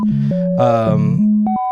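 Two buzzy synthesizer tone sequences step between pitches at mismatched moments, sounding out of time with each other, loud and close with no voices.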